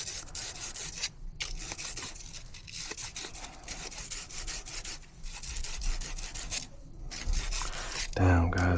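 Hand sanding with sandpaper on an HVAC part during a service call: continuous close scratchy rasping strokes in a steady back-and-forth rhythm with brief pauses, ending with a short burst of other noise.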